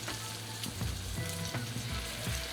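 Butter melting and browning at the edges in a cast iron skillet over low heat, giving a steady, close sizzle and crackle with faint scraping or stirring sounds throughout, no voices.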